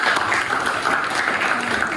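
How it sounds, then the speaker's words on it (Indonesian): A classroom group claps for a presenting student team, a steady, dense burst of applause filling the room at close range from start to finish. "beri tepuk tangan untuk kelompok 1."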